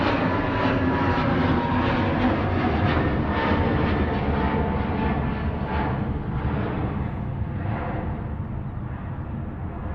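An EasyJet Airbus A321neo departs Manchester Airport, a loud sustained jet roar that stays close and powerful for the whole stretch, slowly fading slightly toward the end, with no voices.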